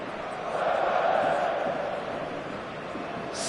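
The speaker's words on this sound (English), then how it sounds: "songs ringing down from the stands" Passionate stadium crowd in the eFootball 25 video game, a steady broad roar of singing from the stands on a clear evening before kickoff, swelling slightly then holding level throughout.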